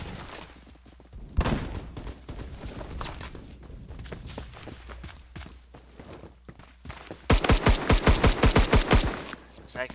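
M16A3 rifle fire in the game Phantom Forces, with scattered shots and footsteps and then a loud rhythmic string of close bursts near the end, under faint game ambience.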